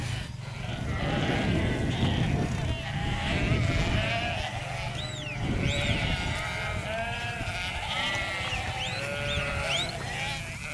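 Sheep bleat on a farm, several overlapping calls rising and falling nearby over a rumbling outdoor background with faint voices.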